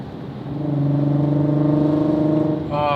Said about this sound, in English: Oh, the sound, downshift. The VR6 is so special.